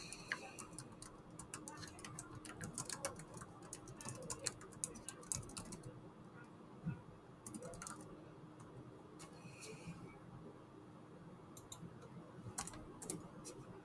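Keys clatter on a computer keyboard while text is entered in Microsoft Word, quick irregular taps in short runs with pauses, close and fairly quiet.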